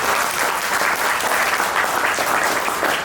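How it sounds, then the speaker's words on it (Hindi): An audience at a business training meeting claps steadily throughout, a dense and fairly loud round of applause with no voices standing out. "एक बार तालियां होनी चाहिए"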